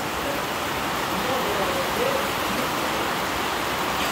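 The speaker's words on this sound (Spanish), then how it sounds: "Está lloviendo bien fuerte acá." Heavy rain pours in a dense, steady hiss, with faint voices murmuring underneath.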